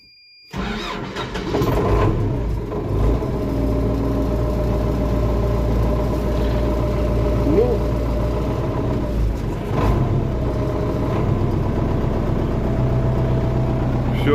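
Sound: vehicle engine being started with the key, then idling

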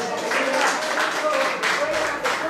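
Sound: audience applause at an awards ceremony

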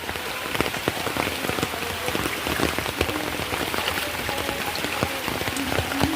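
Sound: rain

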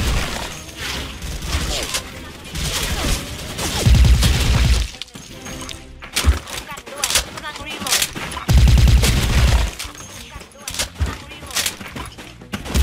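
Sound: M4A1 ACOG silencer gunfire in video game Special Force 2

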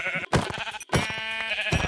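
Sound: sheep bleating in Minecraft, from a video game

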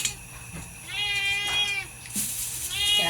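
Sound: cat meowing

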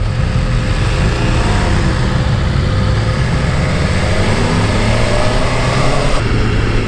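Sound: BMW S 1000 RR inline-four motorcycle engine while riding

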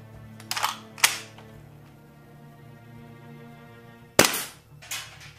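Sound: WE PDW airsoft gun shots during chronograph FPS test

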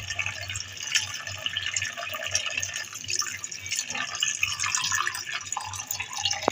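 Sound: tap water pouring into bowl of mutton liver

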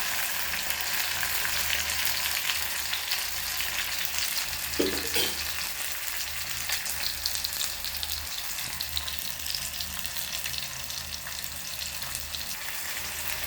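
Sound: sautéing tomatoes, onion and garlic in a pan

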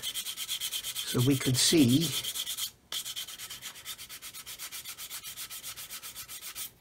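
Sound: coarse sander sanding plastic model kit

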